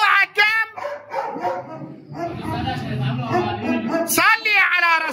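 Dogs bark and yelp in a tense street encounter after a dog attacked someone, the barking loud and close, mixed in with excited shouting voices throughout.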